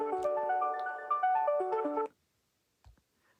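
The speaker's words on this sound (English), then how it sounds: "I'm sorry that my phone rang there." Mobile phone ringtone, a melodic electronic tune of stepped tones playing for about two seconds and then cutting off abruptly, followed by quiet.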